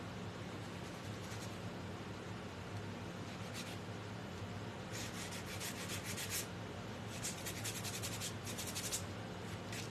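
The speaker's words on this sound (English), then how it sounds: "I'm just going to kind of take my sandpaper over it" Sandpaper rubs over a small wooden Christmas pine craft piece in a steady, soft, close scratching hiss, with brisker bursts of strokes toward the end and no talking.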